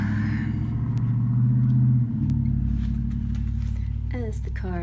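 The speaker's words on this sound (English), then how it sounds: "As the cars drive on by." Cars passing on a road outside produce a steady engine rumble and tire hum that swells and fades, with a person talking over the traffic noise.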